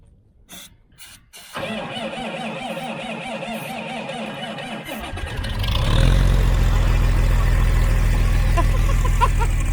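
A farm rig's engine cranks with a stuttering, rhythmic churn for several seconds, then catches and settles into a loud, steady low running rumble, close by with no talk.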